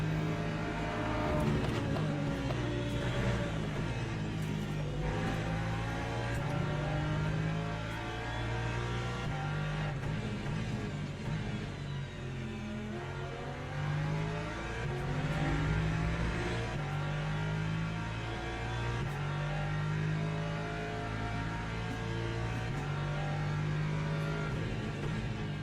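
An LMP2 race car in Le Mans Ultimate roars past with a high, revving engine whine that climbs and drops through the gears over a steady mechanical drone, loud and sustained, with no talking.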